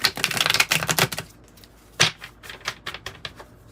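Tarot cards being shuffled by hand in quick riffling bursts of crisp, papery clicks, close and fairly loud, with short pauses between shuffles and no talking.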